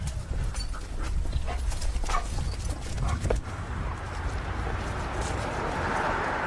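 A four-month-old wolfdog and a two-year-old female out on a walk: soft panting and snuffling with scattered light footfalls outdoors, steady and moderately close, with no talk.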